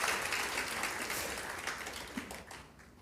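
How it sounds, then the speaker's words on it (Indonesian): Church congregation clapping in praise during a sermon, a steady, fairly quiet wash of many hands that gradually fades over three seconds. "Beri tepuk tangan dan kemuliaan kepada Allah."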